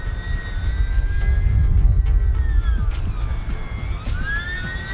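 An E-flite UMX Timber micro RC plane flies overhead, its small electric motor giving a steady whine that rises and falls in pitch as it manoeuvres, with wind noise underneath and no talking.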